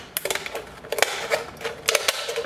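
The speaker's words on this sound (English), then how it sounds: "First, you want to puncture into the middle of the can and just cut around." Scissors snip through a thin metal can in quick, irregular clicks and crunches, close and fairly loud, with short pauses between bursts of cutting.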